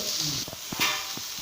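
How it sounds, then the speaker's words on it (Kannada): Fish fries in a pan with a continuous close hiss and sizzle, punctuated by a few soft low taps over a brief moment. "ಮೀನು ಮುರುಮೀನು ಫ್ರೈ ಆವನುಂಡು"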